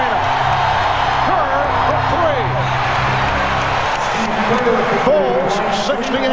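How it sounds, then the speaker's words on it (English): Basketball crowd roaring wildly in the Kia arena during the 1996 NBA Finals Bulls versus SuperSonics game. It is a loud, steady wash of cheers and whoops heard under continuous play-by-play commentary. "And again, the crowd wild here at Kia"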